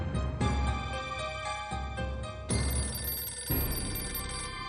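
A telephone rings in a repeated electronic bell pattern, loud and steady throughout with several bursts in quick succession, alone without any talk over it.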